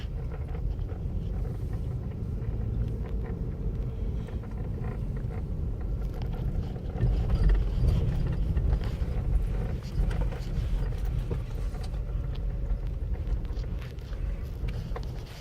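A car drives near the San Antonio haunted railroad tracks, heard from inside as a steady low rumble with wind buffeting the microphone, while people talk over it throughout.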